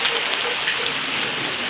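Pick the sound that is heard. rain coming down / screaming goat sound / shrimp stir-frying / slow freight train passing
rain coming down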